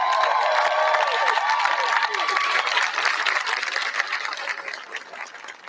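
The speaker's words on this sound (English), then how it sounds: "we're going to give you a big round of applause for all your work" Crowd applauding and cheering for healthcare workers at a hospital ribbon cutting, a steady wash of clapping mixed with raised voices that gradually thins out toward the end.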